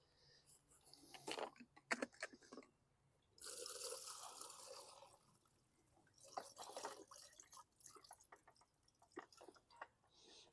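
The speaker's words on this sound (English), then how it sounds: "Let's pour what's in the tank." Liquid drains out of the fuel tank of a 2017 Yard Machines lawn mower in several trickling, splashing bursts, close and fairly quiet, with pauses between pours and no talking.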